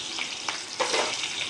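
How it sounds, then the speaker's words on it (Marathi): Green chillies crackle and sizzle as they drop into hot oil in a kadhai, soft continuous frying with a few sharper pops, close and fairly quiet. "आता आपण कढईमध्ये मिरची टाकूया आणि मिरची चांगली तडतडली"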